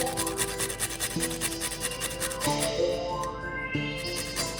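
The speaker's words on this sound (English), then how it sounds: "I'm just going to zest the lemongrass" Fresh lemongrass zested on a grater for a sriracha mayonnaise, giving steady rasping and rubbing strokes that repeat every second or so, close up and with no talking.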